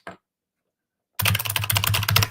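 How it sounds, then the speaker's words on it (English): Rapid clacky typing on a mechanical computer keyboard begins after a brief pause, a dense run of close, loud key strikes with no talking. "I got the clackety keyboard."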